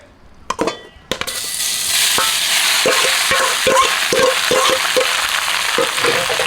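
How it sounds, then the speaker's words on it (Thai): Small chopped pieces of pork fat drop into a hot pan over high heat with a few clinks, then sizzle loudly and steadily while being stirred with scraping taps. "มันหมูก็หั่นเสร็จแล้วนะครับนี่ครับแบบนี้ เสร็จแล้วก็ใส่กระทะเลย"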